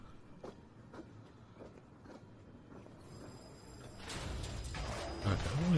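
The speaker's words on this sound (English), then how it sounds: "No one sells tickets to ride this train." A train in the video game Pathologic 2 rolls along with rhythmic clacking that builds into a louder rumble and hiss toward the end, with no speech.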